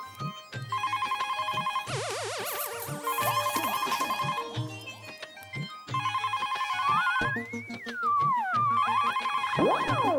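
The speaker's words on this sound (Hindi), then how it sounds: "मम्मी फोन बज रहा है।" Telephone ringing in a household comedy scene, a repeating electronic ringtone with melodic trills and sliding tones that plays loud and close for several bursts, with no talk over it.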